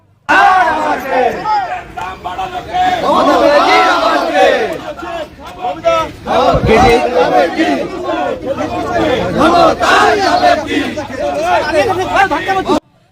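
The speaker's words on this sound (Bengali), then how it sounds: "এত দাম খাবো কি মমতা জানে কি হ্যাঁ এই স্লোগান দিয়েছে বিজেপির কর্মকর্তারা" BJP workers chant a slogan against rising prices outside the state legislative assembly, a loud, massed crowd chant that rises and repeats in rhythmic waves with constant voices throughout.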